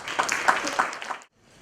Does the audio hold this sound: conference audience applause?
yes